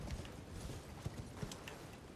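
Horse hoofbeats while riding in the video game Elden Ring, a soft, steady clip-clop rhythm under low background game ambience.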